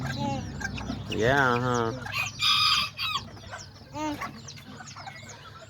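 Small Azteca chickens and roosters cluck and crow nearby in a yard, with a drawn-out crow in the middle and quick clucks around it, while a person speaks briefly.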